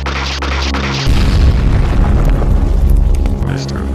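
A bomb explosion sound effect in an edited video: a deep booming blast that breaks in after about a second and rumbles on, loud and heavy, with a voice speaking faintly near the end.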